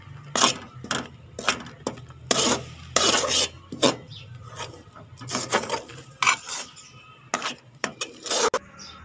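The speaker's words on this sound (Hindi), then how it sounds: "अब इसको अच्छे से इसमें मिक्स कर दें।" Grated coconut being stirred into a thick mixture in a pan for coconut barfi, heard as a series of scraping, rasping strokes of a spoon against the pan in an irregular rhythm, close and fairly quiet.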